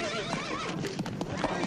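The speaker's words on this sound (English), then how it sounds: "Your horse ran away again, Mr. McGee." A horse whinnies with a rising, wavering call, mixed with hoof clatter and commotion.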